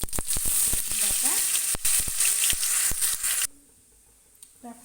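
Garlic paste fries in hot oil with bay leaves in a wok, a loud close hissing sizzle broken by sharp stirring knocks, then cutting off abruptly to near quiet with a few faint taps.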